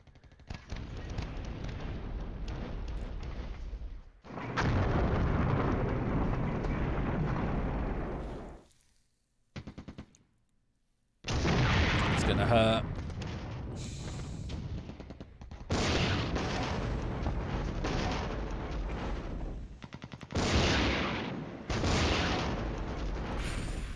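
Artillery fire striking a headquarters position in the wargame Flashpoint Campaigns: Southern Storm, with loud rumbling explosion bursts in several separate waves broken by short silent gaps.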